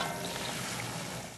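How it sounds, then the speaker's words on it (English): Beer hisses and sizzles as it hits a hot pot roast pan during deglazing, a dense, steady crackling fry that fills the moment without talk. "You hear that sizzle? This is deglazing, taking the flavorful juices off the side of the pan and the bits as well."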